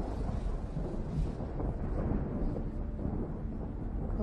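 Thunder rumbling from a thunderstorm, a steady low continuous roll with wind-like noise, fairly loud and unbroken for several seconds, with no voices.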